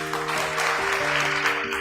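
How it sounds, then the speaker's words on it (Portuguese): Applause from a church congregation, a steady broadband wash of clapping held for a couple of seconds, with sustained organ or keyboard tones beneath it. "Aplausos,"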